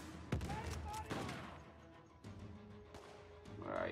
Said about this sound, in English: I'm just gonna go in shooting this time.